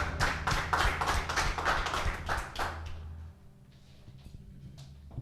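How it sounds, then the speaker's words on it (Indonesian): A small group at a church fellowship gathering claps in a quick, fairly steady rhythm for about three seconds, then the clapping fades into a quiet room with a few scattered taps. "Tepuk tangan yang meriah buat kita."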